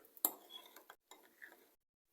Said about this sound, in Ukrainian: його перемішаємо ложкою